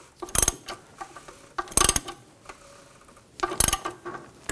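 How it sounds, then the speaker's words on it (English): A ratchet snugs down the oil drain plug on a 2004-2009 Audi A4 Quattro 2.0L four-cylinder, giving three short bursts of close, quiet clicking separated by pauses. "Start to snug that down."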